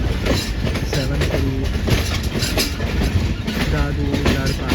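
A Pak Business Express train on the Karachi to Lahore line runs steadily along the rails with a continuous loud rumble and rhythmic clickety-clack, and indistinct voices murmur underneath.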